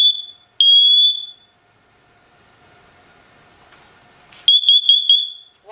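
A SITERWELL smoke and carbon monoxide detector under test sounds piercing, loud electronic beeps: two long tones, a quiet gap, then a burst of rapid repeated beeps.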